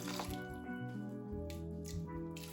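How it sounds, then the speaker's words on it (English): Spring water pours into a pot of sea moss, a close, continuous liquid trickle with small splashes and drips throughout the short moment. "So I just put about just over 250 ml of water."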